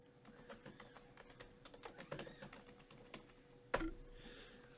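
Quiet, steady typing on a computer keyboard, a rapid irregular patter of key clicks with one sharper louder tap near the end, heard alone against faint room hum.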